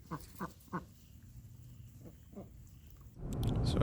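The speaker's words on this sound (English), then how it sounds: "You can see they have chickens and geese." Chickens and geese at a small coop outside a log cabin in the Blue Ridge Mountains of Virginia, a few short honking and clucking calls in quick succession, then quieter calls, before a rush of wind or handling noise covers the end.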